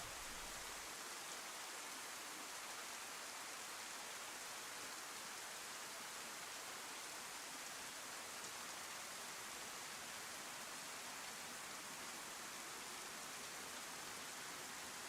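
Steady rainstorm in the DayZ video game on the Chernarus map, a constant broad hiss of falling rain with no breaks or talk, even and moderately loud throughout.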